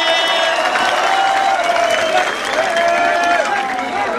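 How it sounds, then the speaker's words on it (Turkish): Audience applause and cheering for two freestyle rap battle competitors, a dense, loud crowd sound running continuously, with a high-pitched electronic tone sliding faintly through it. "İki için de kocaman bir alkış alabilir miyim?"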